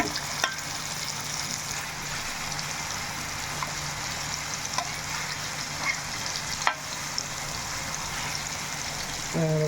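Fish frying in oil in a clay pot just after being flipped gives a steady close sizzle and crackle throughout, with a few small pops and clicks of handling, no voices.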